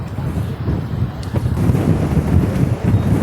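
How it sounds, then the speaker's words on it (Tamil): Strong wind buffets the microphone on a fishing village beach at Manapad, a steady roaring rumble with faint surf beneath and no clear voices. "காற்று ரொம்ப ஃபோர்ஸாக இருக்குது. அதனால் நம்ம பேசுகிறது கிளியராக தெரியாது."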